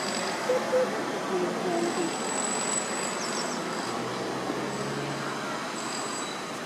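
A train on the Bodmin and Wenford Railway rumbles steadily nearby with faint wheel squeals, heard outdoors under a child's and an adult's chatter.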